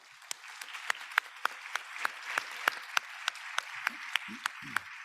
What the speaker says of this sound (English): A big applause to all of us